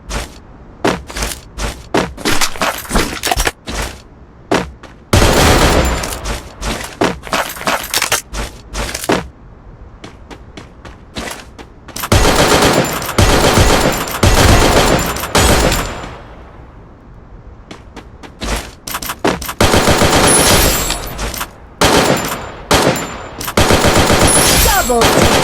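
Gunfire from shotguns such as the M1014 and M590 plus an M8087 in the Free Fire mobile game, loud repeated blasts in rapid bursts and volleys with short pauses, continuing throughout with occasional brief voice.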